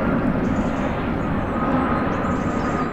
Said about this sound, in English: Planes like this are burning